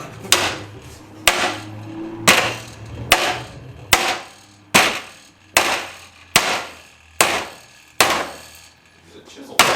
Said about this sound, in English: Use a chisel.